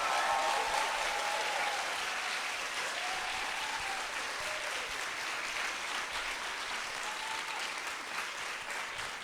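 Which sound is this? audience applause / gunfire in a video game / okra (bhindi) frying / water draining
audience applause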